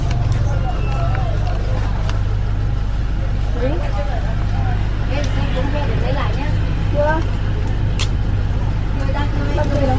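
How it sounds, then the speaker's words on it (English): A bus drives along, heard from inside the cabin, with a constant loud engine and road rumble. Passengers murmur and chatter in the background. "We'll be sitting on the bus for 4 hours."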